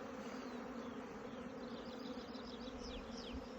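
Bees buzz steadily over fields rich in nectar, a faint, continuous drone of many insects close by with no talk.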